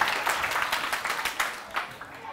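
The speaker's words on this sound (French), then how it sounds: "On applaudit très très fort pour Amirou" Audience applause at a live show, a dense spatter of claps that swells and fades in short bursts, with a voice faintly mixed in beneath.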